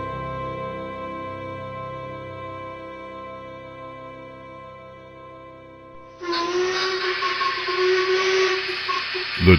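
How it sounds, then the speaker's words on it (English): A steam train whistle sounds with a steady multi-tone blare, then a loud burst of hissing steam cuts in and continues alongside the whistle. "The train's whistle blared into the open air as it pulled into the stone-constructed station."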